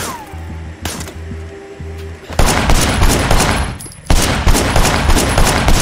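Gunfire in the Sleeping Dogs action game on PS4 erupts in loud, dense bursts after a quieter stretch of game sound, briefly dropping out and then resuming at full loudness.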